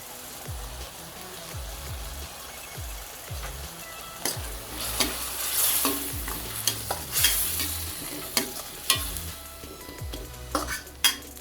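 Busy pan sizzle of tomatoes and onions sautéing, a spoon stirring and scraping against metal, frying steadily throughout, with sharp clinks of utensil on the pan, close up.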